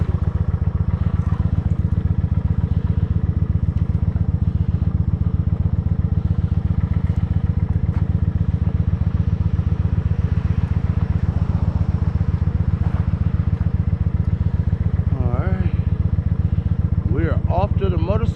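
A motorcycle engine idles during warm-up in a steady, close, chugging drone for the whole stretch, with faint clatter on top and a few brief higher sounds near the end.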